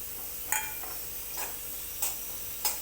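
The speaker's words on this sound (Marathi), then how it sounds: "आता जिरं भाजून घेते" Cumin seeds, with sesame seeds, dry-roasting on low heat in a clay pot: a quiet hiss broken by a few sharp scrapes or clicks at roughly regular intervals, with no voices.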